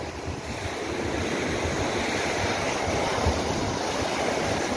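Large waves crashing on the Lake Baikal shore under strong wind, a loud continuous roar of surf and gusty wind buffeting the microphone, with no voices.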